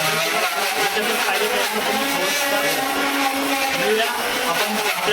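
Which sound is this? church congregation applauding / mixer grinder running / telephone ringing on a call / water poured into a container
mixer grinder running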